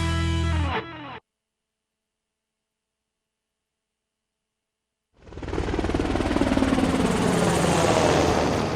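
A Navy Seahawk military helicopter fades in after a stretch of silence and grows into a loud, steady rotor roar with a rumbling, whirring drone.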